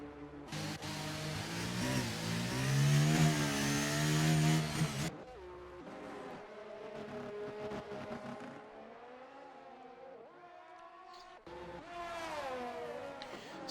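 F1 cars in F1 23 rolling out of the Netherlands pit lane, with a loud rising engine whine up front, then softer passing cars and a second car building revs near the end.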